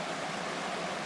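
Brydson Creek south of Highway 7 runs as a steady, even wash of flowing water, continuous and fairly soft throughout with no voices.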